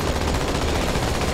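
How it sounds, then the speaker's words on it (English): Tank cannon fire in the Halo 2 multiplayer map Outskirts: a loud, dense, unbroken barrage of booming gunfire with no pause across the whole moment. "Oh, it's a tank!"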